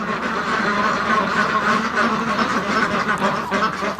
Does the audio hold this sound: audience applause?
no